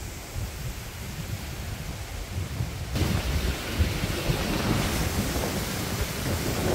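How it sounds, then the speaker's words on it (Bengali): Strong wind sweeps across open village ground in Bangladesh ahead of possible rain, a steady broadband roar that swells louder partway through and keeps blowing without a break. "যেহেতু বাতাস ছাড়ছে প্রচুর পরিমাণের"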